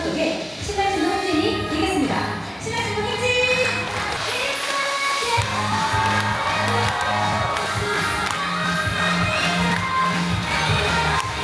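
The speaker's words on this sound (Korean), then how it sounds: "여러분의 가장 큰 박수와 환호" Wedding guests applaud and cheer for the newlyweds, with steady crowd noise, clapping and whoops continuing under music throughout.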